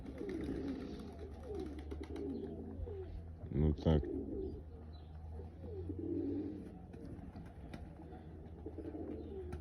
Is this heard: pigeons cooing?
yes